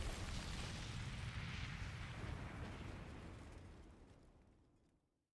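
A grenade explodes in the Last Defense Academy video game: a loud, broad blast roar that holds strong for a few seconds, then fades into a long decaying rumble and silence.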